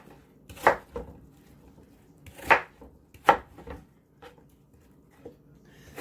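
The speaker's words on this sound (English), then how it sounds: "I love apples. And I just keep dicing them." A knife dices apples for an apple pie on a cutting board, sharp irregular chops in small clusters with quiet gaps between them, close and fairly soft.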